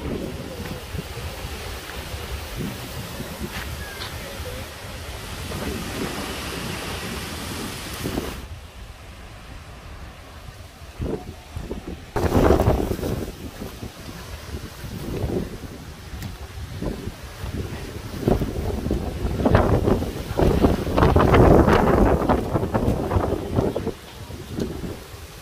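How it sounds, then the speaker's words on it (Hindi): A sudden storm with rain: strong gusting wind roars and buffets the microphone in loud, uneven surges, broken by a brief lull partway through, with no talking. "अचानक तूफान आ गया, माशाल्लाह जी अलहमदुल्ला अलहमदुल्ला बारिश भी शुरू हो गई है"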